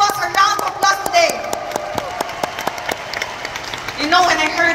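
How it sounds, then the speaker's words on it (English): A round of applause from an audience at a course event, scattered claps and a few sharp hits coming through under a speaker's loud voice, with some cheering rising toward the end. "Can we all give boss a round of applause today?"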